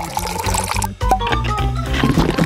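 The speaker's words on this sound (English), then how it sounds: "And only now I will pour boiling water to the coffee." Boiling water is poured onto freshly hand-ground coffee, giving a steady liquid pour under loud, continuous music, with a brief drop in level partway through.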